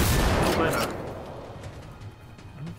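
Heavy gunfire in the video game Generation Zero, a loud cluster of booming shotgun blasts up front that fades into rumbling echoes, with a person talking over it.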